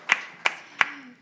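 Three sharp, evenly spaced claps ring out in a room at a summit event, crisp and fairly close. No chorus of applause follows.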